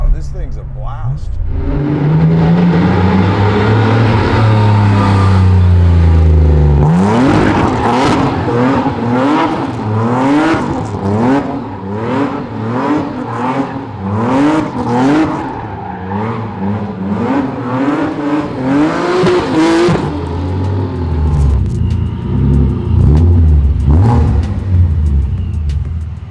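Supercharged BMW E30 325is track car engine, loud and close, climbing through repeated rev sweeps and gear changes while driving, with a steady rumble beneath and a brief easing off near the end.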